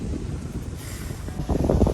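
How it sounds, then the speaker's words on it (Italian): Strong wind buffets the microphone outdoors on a rainy camping trip, a steady low rumble that surges louder toward the end, with no voices. "c'è un sacco di vento ed è arrivata la pioggia."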